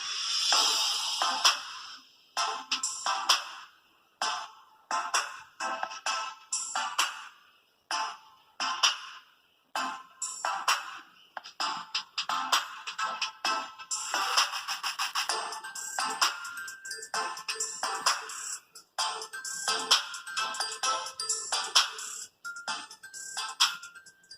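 A ringtone plays through the speaker of a 2018 Moto Z3 Play: a bright, choppy electronic melody of rapid pulsing notes, loud and close, running for over twenty seconds with no talking.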